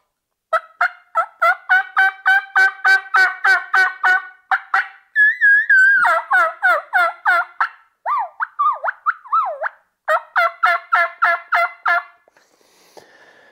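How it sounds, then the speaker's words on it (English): A turkey mouth call with a raspy reed makes a long run of sharp, raspy old-hen yelps, loud and close, then a few looser clucking notes before another yelp series and silence. "It's gonna have a little bit more rasp to sound like that old hen."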